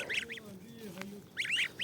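Geese honk nearby in short nasal bursts, a couple of calls at the start and another cluster at the end, with quieter noise between.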